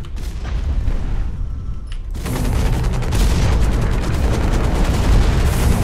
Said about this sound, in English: That missile barrage is ridiculous.